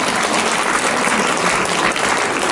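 An audience applauds before an ocarina and violin ensemble performance, loud, dense and sustained clapping from a crowd close by, unbroken throughout with no talking.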